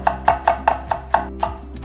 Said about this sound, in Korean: 양파 잘게 썰어서 준비를 할게요